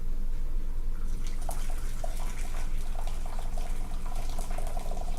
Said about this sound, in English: in the bigger bowl, I'm going to pour some boiling water